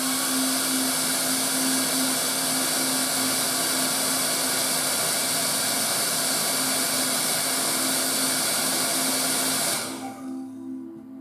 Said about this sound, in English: At this point, I'll use the hairdryer.